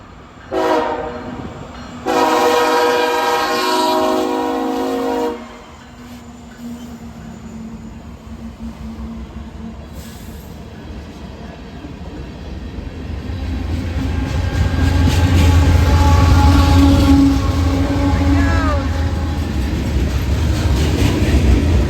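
A manifest freight train rounds a curve and passes under a bridge near Peachtree City, Georgia, opening with loud, sustained horn blasts, then settling into a rising, steady rumble of rolling wagons and wheel clatter with faint wheel squeal nearby.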